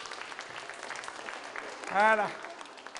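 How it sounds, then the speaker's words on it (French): An audience gives light, scattered applause for a child, heard faintly in the background while an adult voice speaks briefly over it. "On l'applaudit très fort."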